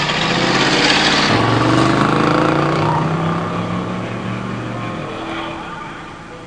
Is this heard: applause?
no